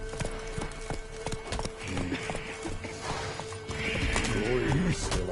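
Roach, a horse in The Witcher video game, gallops with rhythmic clip-clop hoofbeats, snorts and a whinny, with game voices and ambient sound underneath.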